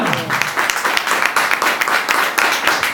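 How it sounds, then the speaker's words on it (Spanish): Church congregation applauding together, a dense, continuous burst of many hands clapping at close range with some voices mixed in. "Aplaudir al Espíritu Santo"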